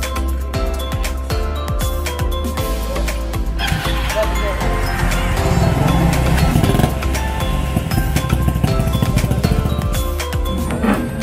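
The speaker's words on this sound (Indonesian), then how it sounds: "Motornya masuk bengkel." A motorbike rolls into a roadside repair workshop on the Medan–Brastagi road, its engine running steadily and close by under a dense clatter of workshop noise and voices for the whole stretch.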